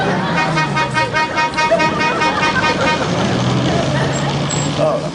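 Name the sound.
car hooting its horn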